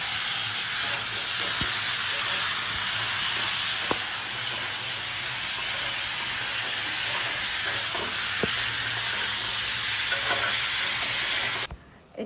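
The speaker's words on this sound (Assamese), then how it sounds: "প্ৰথমতে চয়াবিনখিনি ভাজি লৈছোঁ, তাৰপিছত চব্জিখিনি বহাই দিম আৰু" Soybean chunks sizzle in a wok with vegetables about to go in, a steady loud hiss of frying with faint clicks, continuous and close, cutting off abruptly at the end.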